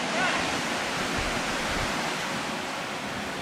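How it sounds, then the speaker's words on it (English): A waterfall in a canyon along the Escalante River near Death Hollow gives a steady, dense rushing roar that fills the whole clip without any break. "we played in the waterfall one more time before heading back"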